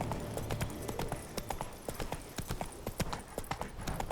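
Roach the horse trots along in Witcher 3, hooves clip-clopping in a quick, steady rhythm of sharp clicks over a soft game backdrop.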